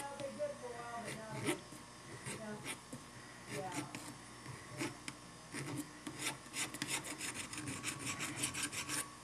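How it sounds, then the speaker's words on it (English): Steady rasping strokes of a small file smoothing a notch on a hand-laid N scale model railroad turnout, close and fairly quiet, repeating in quick irregular bursts that pick up pace toward the end. "Notches here filed out."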